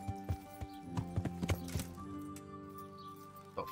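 A horse in the medieval game Kingdom Come: Deliverance clip-clops in uneven hoofbeats, closely followed by a whinny, against a soft sustained musical tone.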